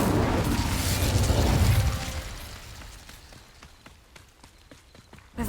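A fire spell cast in Hogwarts Legacy bursts with a loud whooshing roar of flame that swells for about two seconds, then fades into quieter crackles and scattered small pops.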